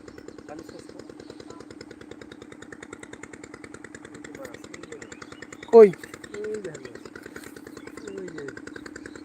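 A steady motorboat engine putters rhythmically throughout, with a brief louder knock partway through and people talking faintly over it.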